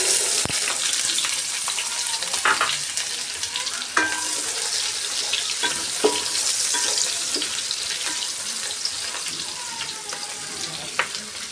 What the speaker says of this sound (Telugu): ఇప్పుడు ఒక బౌల్ మనం కట్ చేసి పెట్టుకున్న ఉల్లిపాయ ముక్కలు వేసేసుకుందాం